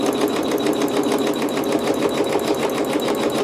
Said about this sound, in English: we'll let the machine tack it down